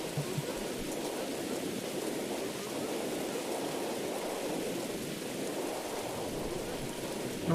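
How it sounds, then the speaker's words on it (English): Steady heavy rain pours in a stormy night scene from the horror game Mothered, a constant dense hiss with low thunder rumbling underneath, unbroken and fairly loud. "So the storm is picking up."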